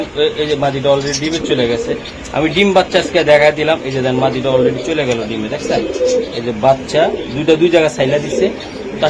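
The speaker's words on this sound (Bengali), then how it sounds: "এই যে আরেকটা কবুতর এটা কি হ্যাঁ?" Pigeons kept for sale at a pigeon market in Mirpur, Dhaka, coo repeatedly in soft low bursts through steady, close conversation between people.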